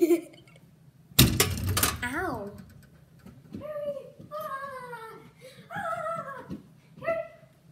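A dog yips and whimpers in short rising bursts, with a loud scuffling burst early on and a voice talking in between.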